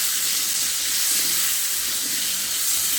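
Potatoes fry in hot oil with a pinch of salt for a vegetarian eggplant dish, giving a steady, even sizzling hiss that carries on unbroken throughout with no voices.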